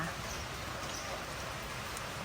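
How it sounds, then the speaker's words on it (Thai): Steady rain falls around a rural house with a fish pond, a dense, even hiss of drops spattering on surfaces that carries on unbroken throughout. "ฝนตกจ้า บรรยากาศยามฝนตกนะคะ"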